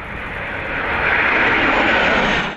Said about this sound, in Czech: průlet dvojice stíhaček Gripen a letounu Challenger